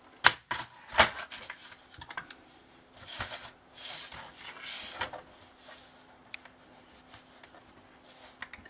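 A fold line is scored into card for a scrapbooking mini album, with sharp scraping strokes and taps followed by longer rasping passes of the tool, close and intermittent with pauses between them and no talk.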